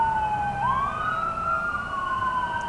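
A siren wails steadily with rising and falling tones over low road rumble, sounding moderately distant and continuous throughout.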